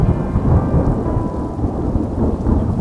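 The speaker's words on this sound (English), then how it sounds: "I hate it when it rains." Heavy rain falls with a low, continuous rumble of thunder, a loud, dense wash of noise throughout with no voices.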